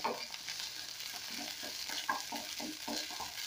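Tomato paste and capsicum fry in a pot for a goat curry, giving a steady close sizzle with a spoon stirring through at a regular pace.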